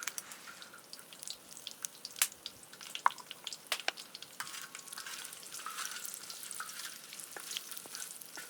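Plums roasting in a pan at a mountain village cooking fest, a steady crackling sizzle dotted with sharp pops and the occasional scrape of stirring, faint and close.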